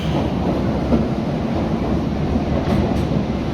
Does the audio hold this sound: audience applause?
no